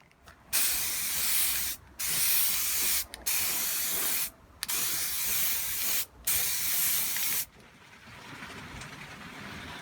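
Five bursts of spray painting on an R2-D2 droid part hiss loudly in a row, each lasting about a second, separated by short silent gaps, then a quieter background hiss.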